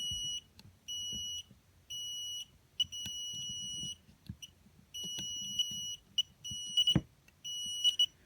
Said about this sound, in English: This buzzer is going crazy.